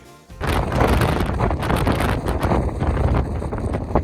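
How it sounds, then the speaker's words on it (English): Strong gusty wind roaring over the microphone on a windy mountain bike ride at Stanage Plantation, loud and continuous buffeting with rattling noises beneath. "So I've picked pretty much the windiest day to do this."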